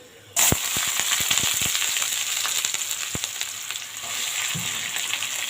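Onions hitting hot oil with cumin in a wok, bursting into a loud, steady sizzle with sharp crackles and pops near the start, continuing close and unbroken with no talk.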